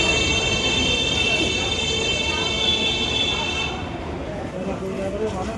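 A crowded train at Bally railway station gives a steady rail rumble with high wheel squeal close by, softening toward the end while voices talk over it.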